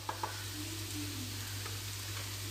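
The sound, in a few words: stirring chicken momo filling frying in a pan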